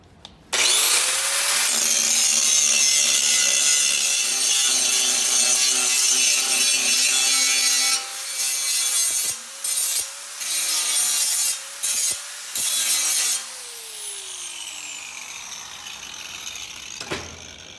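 An angle grinder strips paint, rust and residue from a metal plate in a long, loud, close whine that runs steadily, then breaks into several short bursts as the tool lifts and bites again before winding down.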